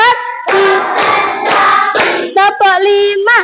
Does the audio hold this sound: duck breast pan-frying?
no